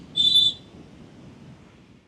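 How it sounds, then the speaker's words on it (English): A lifeguard's whistle on a beach gives one short, sharp shrill blast that stops quickly, leaving a low, quiet rumble of ambient noise. "the lifeguards here are blowing whistle, people are too deep in the ocean"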